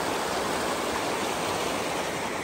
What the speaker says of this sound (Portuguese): Eu estou aqui na barragem da cachoeira do Parque Ecológico Caracol,